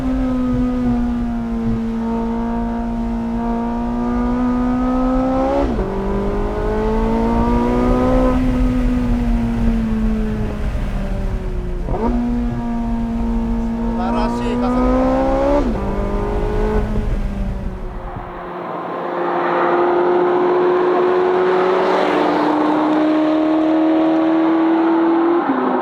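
Porsche 918 Spyder hybrid supercar accelerating hard, a loud engine rising in pitch through several gear changes, each shift dropping the tone before climbing again, heard from inside the car before the sound shifts near the end.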